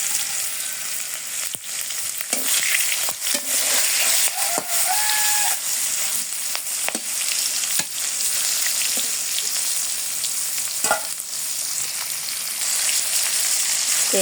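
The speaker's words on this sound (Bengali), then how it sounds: "মাছ ভাজি হয়ে গেছে গা" Fish fries in a hot wok with a loud, continuous hissing sizzle, broken now and then by sharp crackles and spits of oil, with no voices over it.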